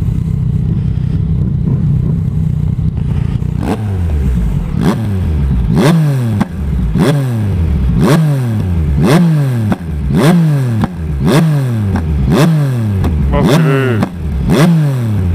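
Motorcycle fitted with a new aftermarket exhaust, a steady idle that breaks into a long series of sharp, loud rev blips with crackling pops on each throttle drop, very close to the microphone.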